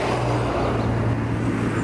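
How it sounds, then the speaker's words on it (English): A car passes on a jungle road in Mazandaran, a steady engine and tyre rumble that holds near and fairly loud through the short stretch. "Well, definitely there's a noise of a car"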